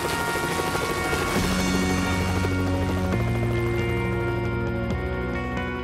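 Police helicopter in flight: a loud, steady rotor and turbine roar with tonal engine whine, continuous and close throughout, with slight shifts in pitch partway through.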